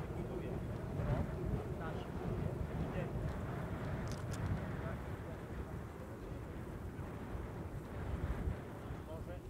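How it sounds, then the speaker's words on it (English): Steady wind buffeting an outdoor microphone at the FAI F5J World Championship 2023 model glider senior flyoffs in Dupnitsa, Bulgaria, a continuous low rumbling roar filling the clip with faint voices underneath. "Still windy."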